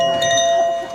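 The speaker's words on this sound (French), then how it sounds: "Un carillon que j'ai bricolé" A homemade chime rings with steady sustained metallic tones, several pure pitches sounding together and holding evenly for about a second before starting to fade, close and fairly loud.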